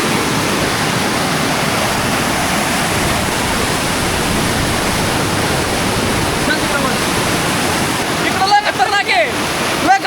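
Kondeshwar Waterfall at Kamshet in the monsoon roars as a loud, steady wash of falling water, near and unbroken; brief voices cut in toward the end.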